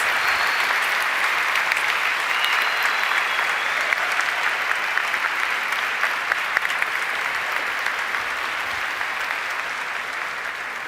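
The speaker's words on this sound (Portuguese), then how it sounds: "eu gostaria que a igreja aplaudisse com uma grande salva de palmas esses que se dedicam às nossas crianças" A church congregation applauds together in a long, steady round of clapping that fills the room, with no talk over it.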